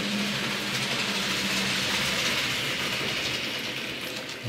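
An H0 scale model train runs steadily along a home layout, giving a continuous close rumbling whir with faint rail clatter that holds level for the whole stretch before easing slightly at the end.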